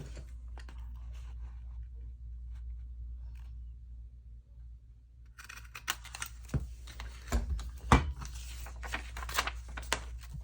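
Scissors snip a thumb hole through folded book page or scrapbook paper, a few quiet close cuts and crunches following a stretch of low hum.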